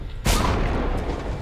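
Grenade blast in Warhammer 40K Deathwatch, a sudden sharp explosion after a quiet moment, then a rolling rumbling tail that fades slowly, close and loud.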